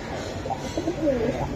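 Pigeons coo at a seller's stall offering Budapest, Giribaz and racer pigeons. Soft, low rolling coos repeat a few times close by against a steady background hum.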